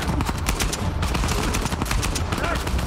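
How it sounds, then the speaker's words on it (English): Gunfire in the video game Uncharted 4: A Thief's End: a loud, nonstop barrage of rapid, overlapping shots and bursts crowding the scene, with speech mixed in. "Someone's shooting me from the other side."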